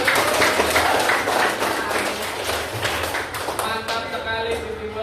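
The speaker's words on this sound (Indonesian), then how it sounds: "Tepuk tangan buat aku." Classroom applause: several pupils clap in a quick, uneven patter that runs throughout and fades slightly toward the end, with faint voices mixed in.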